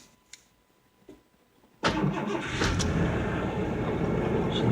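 A 1988 Ford Ranger GT engine cranks and catches after near silence, then settles into a steady, close, slightly high idle that continues to the end.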